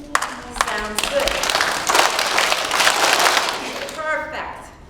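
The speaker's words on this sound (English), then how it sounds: "I can do that clap again and have everybody quiet down" Schoolchildren in a classroom clap together in a group, a bright rush of many small hands rising for a few seconds between short bits of talk at the start and end.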